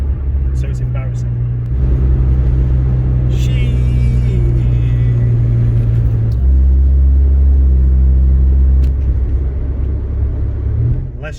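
Inside a moving 416GTi, the engine drones with a loud, steady low rumble whose pitch steps up and down with the revs. Someone talks over it for much of the time.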